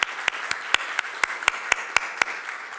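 Lecture-hall audience applauding for Nancy LaSalle, a short run of evenly spaced, crisp claps, close and fairly sparse, with no talk over it.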